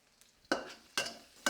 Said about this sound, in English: So you want it sizzling, but not burning.